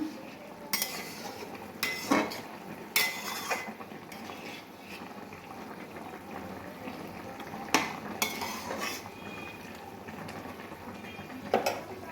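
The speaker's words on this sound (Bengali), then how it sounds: "আমরা ঢাকনাটা তুলে আরেকটু নেড়ে দিলাম" Ridge gourd and potato posta being stirred in a pan, with a spoon scraping and clinking against the metal in scattered bursts over a low simmering hiss, no voices.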